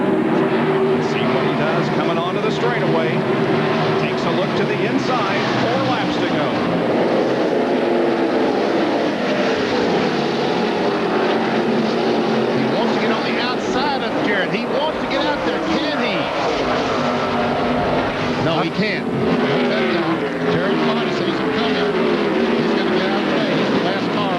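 NASCAR Winston Cup stock cars racing at Darlington Raceway in 1997, a loud continuous roar of engines throughout, with commentators talking over the noise.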